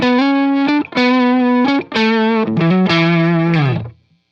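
An electric guitar on a Thorn neck pickup through a Tube Driver overdrive on a Fractal FX8, playing a loud sustained melodic lead of several held notes and slides before fading, close with no voices.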